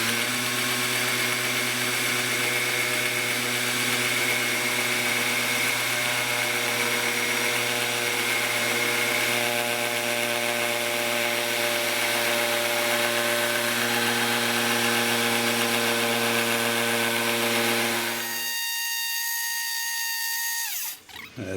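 A belt grinder runs with a 180 grit belt, a loud steady whine with tonal hum for about eighteen seconds before it cuts off and winds down.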